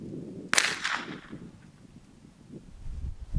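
A single sharp rifle shot cracks loudly at a shooting range, then rings out and decays over the next second, followed by quiet background rustle.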